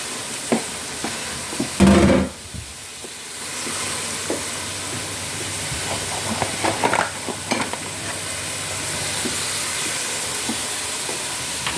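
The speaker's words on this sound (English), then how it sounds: "So I'm going to let them simmer to nice colour, nice brown gold colour." Onions simmering in two pots while cooking dinner, a continuous soft sizzle and bubbling with a loud clatter of a lid or utensil near the start and scattered stirring knocks afterward.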